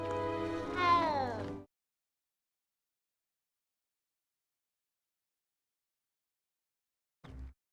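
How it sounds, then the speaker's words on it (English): Cat meowing in Hogwarts Legacy, one drawn-out rising and falling meow near the start, then silence and a brief low thump at the end. "Is that a cat? It's a cat."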